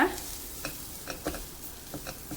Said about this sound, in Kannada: ಇದು ಚಿಕ್ಕನ್ನು ಚೆನ್ನಾಗಿ ಹುರ್ಕೊಂಡಿದ್ದೀನಿ.